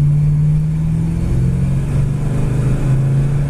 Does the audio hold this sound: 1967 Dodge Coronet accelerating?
yes